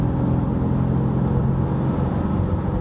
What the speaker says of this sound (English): Even when we're in the 6th gear now, and I want to accelerate, for example, 100 kilometers to 120, when I'm just pressing the throttle.